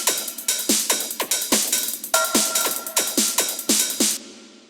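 Goa trance percussion loop built from an Ableton drum kit: steady, fast repeating hits with a bright, noisy top and a punchy low thump, loud and continuous before cutting off near the end.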